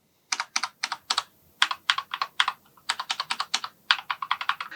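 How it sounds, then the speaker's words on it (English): Typing on a Corsair K70 Pro RGB mechanical gaming keyboard with Cherry MX Brown switches: bursts of crisp, close clicks and clacks in quick uneven runs, with short pauses between groups and no voice. "This black one has the Cherry MX Brown Tactical and Soft switches"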